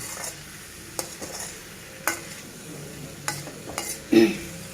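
A pan of brinjal curry sizzles quietly while a spoon stirs and scrapes against it, with several sharp knocks spaced through the stretch.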